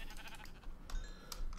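Sheep bleat in a Minecraft game (Feed The Beast modpack), with a few short bleats and game sound effects layered close together.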